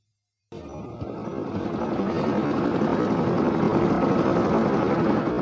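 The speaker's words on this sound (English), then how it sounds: "The helicopter took off and climbed slowly into the sky." A loud, steady helicopter engine and rotor roar starts abruptly and builds slightly, filling the scene with continuous mechanical noise.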